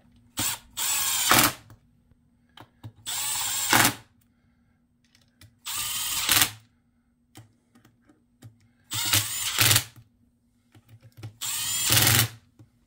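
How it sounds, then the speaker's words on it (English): Torque gun on its lowest setting driving bolts on the rear differential of a DBXL-E RC truck, five loud whirring bursts of about a second each, separated by quiet pauses with faint clicks. "I do have this torque gun on its lowest setting"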